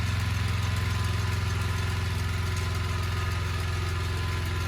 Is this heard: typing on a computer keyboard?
no